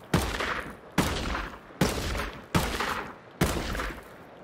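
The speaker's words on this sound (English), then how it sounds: "Aim center mass, and we'll see kind of the stability and control after all 8 rapid shots." An M590A1 pump shotgun in the video game Ghost Recon Breakpoint fires five loud, booming blasts at an even pace, each one a sharp crack with a ringing tail that lasts until the next shot.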